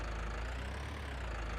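The biggest tractor on an alpine farm in Farming Simulator 19 runs with a steady, loud diesel drone and low throbbing idle, constant throughout without any talk.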